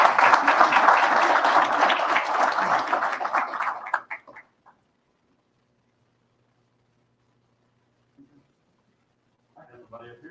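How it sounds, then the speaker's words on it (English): An audience applauds at a Board of Education meeting, a dense burst of clapping for about four seconds that cuts off abruptly into near silence, followed by faint shuffling. "let's give them another round of applause"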